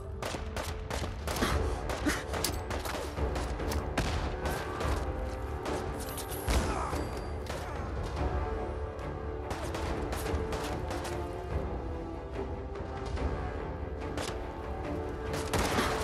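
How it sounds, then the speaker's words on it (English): Frag grenade blasts and rapid gunfire during a cave fight in Fallout 4, sharp repeated shots and heavy booms crackling densely and irregularly throughout, loud and close, with no talk. "Frag grenade."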